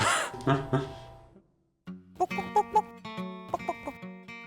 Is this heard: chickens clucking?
yes